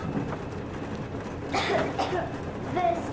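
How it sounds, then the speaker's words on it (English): Two short, rough coughs from a nearby person in the video game Metro Exodus, one in the middle and one near the end, over a soft background hum. "I have this cough."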